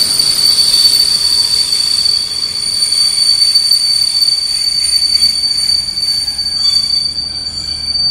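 A train pulling into a station on a delayed run from Kraków to Warsaw, its wheels and worn brake blocks screeching in a sustained, loud, high-pitched squeal over a low rumble of rolling wheels.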